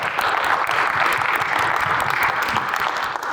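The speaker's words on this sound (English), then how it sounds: "So give yourselves a round of applause for that." An audience at a sales talk gives itself a round of applause, a dense, sustained wash of clapping that stays loud and steady throughout.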